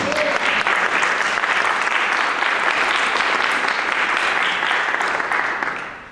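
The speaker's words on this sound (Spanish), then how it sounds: "Un fuerte aplauso para nuestro Señor." A church congregation breaks into loud, sustained applause, a dense wash of clapping that holds steady for several seconds before tapering off at the end.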